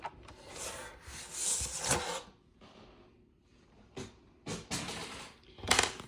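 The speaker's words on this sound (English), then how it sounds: "We're going to come in 1 inch and score it 1 inch." Paper for a paper craft folio is scored, giving faint scratchy rubbing strokes in a few short bursts separated by quiet gaps, close but soft with no talk.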